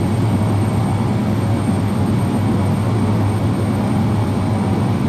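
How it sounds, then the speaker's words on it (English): King Air thrust reversers engaged after touchdown in a flight simulator produce a steady, loud, broadband roar with a low engine drone, constant throughout with no talk. "touchdown, and the reversers are engaged."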